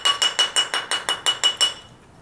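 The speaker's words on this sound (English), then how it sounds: "I'm not being gentle with this hammer because it's not going to mar it up." A hammer strikes a stamped pewter or aluminum ring about ten times in a quick, steady rhythm. The sharp, bright metallic taps are close and loud, then stop, and no one speaks.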